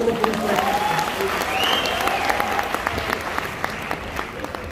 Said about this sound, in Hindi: इसको एक बार जोरदार तालियां बजा दो यार।